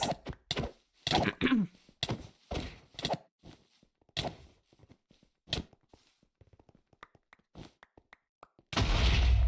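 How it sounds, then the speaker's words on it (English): A bomb goes off in a Minecraft Java BedWars match: a run of quick clicks, pops and thumps from the game, then a loud, sustained blast that fills the last moments. "That's a bomb to get rid of the blindness totem"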